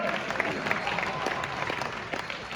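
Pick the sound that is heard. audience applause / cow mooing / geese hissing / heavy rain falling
audience applause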